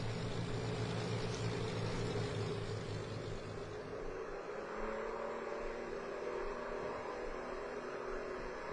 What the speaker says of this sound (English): notice the engine sounds are not quite as realistic as I would expect from the inside of it